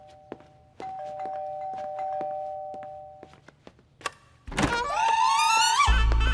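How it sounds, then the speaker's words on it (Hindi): A doorbell rings again and again, several sharp chimes spaced out over a few seconds, followed by a louder electronic ding-dong tone near the end, indoors in a home. "तेरा बाप बाहर खड़ा रह के घंटी पे घंटी बजाते जा रहा है"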